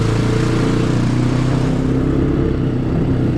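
A Honda Recon 250 ATV engine runs steadily and close by, a continuous low drone heard while heading downhill and shifting up through the gears.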